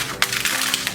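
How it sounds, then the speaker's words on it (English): Crushed glass is patted by hand onto a Dollar Tree candle holder, making a few close, gritty crunches and scratchy taps with small glassy crackles, fairly loud and without speech. "Just go ahead, put the glass on and pat it in place."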